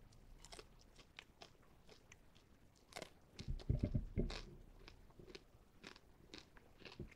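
A loud, crisp crunch of biting into a Taco Bell crispy fried chicken wingette, eaten without sauce, followed by a few seconds of crackly chewing close to the mic, with no talking.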